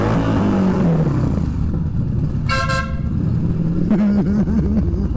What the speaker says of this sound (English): my motorcycle, when I honk the horn, it sounds like a train